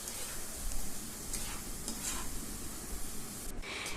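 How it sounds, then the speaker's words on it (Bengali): Spiced ridge gourd is stirred and sautéed in a pan for a vegetarian dish, producing a dense, continuous close sizzle with soft scraping strokes throughout. "খুব ভালো করে কষিয়ে নেব।"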